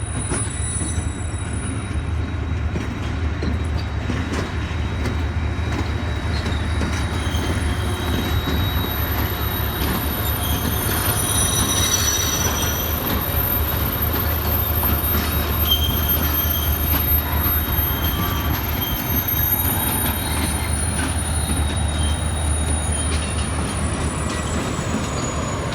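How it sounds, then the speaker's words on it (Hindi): Millat Express rolls into platform 3 at Karachi Cantt station, a steady loud rumble of railcars with wheels squealing on the rails throughout, continuous and close with no talk. "मिल्लत एक्सप्रेस जो है ये प्लेटफॉर्म नंबर 3 पे जो है अभी ये पहुंचेगी"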